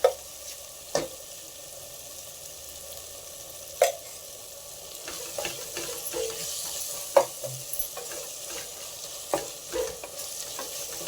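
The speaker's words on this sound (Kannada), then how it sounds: "ಒಳ್ಳೆ ಮಸಾಲೆ ಫ್ರೈ ಆಗಿದೆ ಎಣ್ಣೆ ಬಿಟ್ಕೊಂಡಿದೆ ಇವಾಗ ಇದಕ್ಕೆ ನಾನು ಎರಡು ಸ್ಪೂನ್ ತುಪ್ಪ ಹಾಕೊಳ್ತಾ ಇದ್ದೀನಿ" Masala frying in a pan with oil and ghee for egg pulao, a steady close sizzle with scattered sharp spatters and occasional pops and stirring clicks, no voices.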